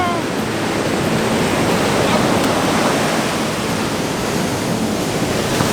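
Ocean surf washing onto a beach in southwest Western Australia, a steady, full broadband roar of breaking waves and wash that holds evenly loud throughout, with wind rumbling across the microphone.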